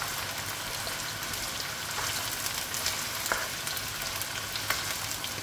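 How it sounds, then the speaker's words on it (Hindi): Chicken fries with chillies in a karahi, giving a loud, continuous hiss and sizzle with scattered crackles and pops throughout, close up and with no talking. "अब ये मिर्चों के साथ अच्छे फ्राई होगी चिकन।"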